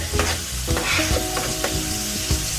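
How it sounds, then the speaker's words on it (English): Spoon stirring a pot of carrots, onions, spring onion, garlic, Scotch bonnet, pimento berries, pumpkin and potatoes for Jamaican steamed fish, with loud scraping knocks against the pot over a busy sizzle. "Everything in. Stir."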